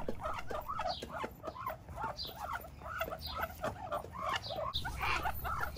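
Muscovy ducks, including a drake among the flock, make a busy run of soft, breathy hisses and muttering calls in quick succession, close by and continuous.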